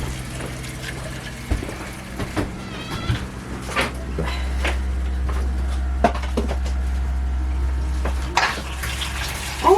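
Water from a bathtub faucet in a camper gushes steadily into the tub, a loud rushing flow that runs for several seconds with a few clanks and knocks around it.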